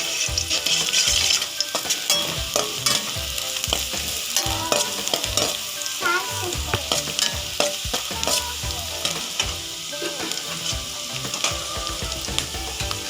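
Gobi manchurian stir-fried in a pan, with a loud, steady sizzle of frying broken by frequent sharp scrapes and clacks of a spatula against the metal, close and with no talking.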